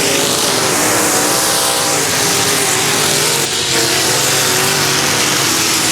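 USRA modified and stock race cars roar around a dirt track at full throttle, a loud, dense, unbroken engine drone from several cars at once, with no voices heard.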